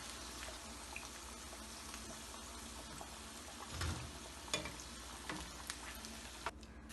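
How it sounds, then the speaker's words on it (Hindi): Egg pakoras deep-frying in hot oil make a steady, close sizzle with soft bubbling, broken by a few brief stirring clinks toward the end. "ज़रा ध्यान से फ्राई करिएगा।"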